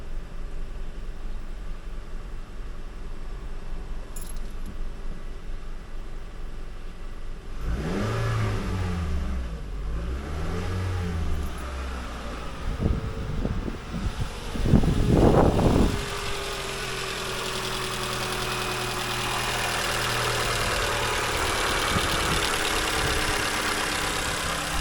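A Toyota RAV4 engine running steadily at about 1300 RPM after a spark plug change, a continuous mid-level hum with a brief rise and change in pitch partway through and a faint ticking chatter, with no talking.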